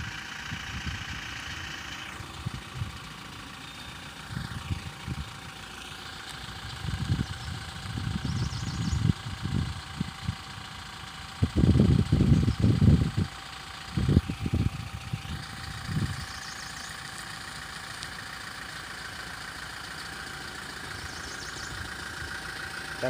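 A car's engine idles and revs gently while a learner driver practises pulling in and out of a parking bay, with a low steady hum broken by several clusters of louder rumbling bursts and thumps.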